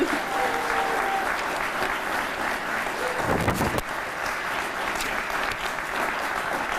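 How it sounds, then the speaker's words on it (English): An awards-dinner audience gives gold and silver circle honorees a sustained round of applause, thick continuous clapping that stays strong from start to finish, with a brief rumble partway through. "Let's give our gold and silver circle honorees one more round of applause."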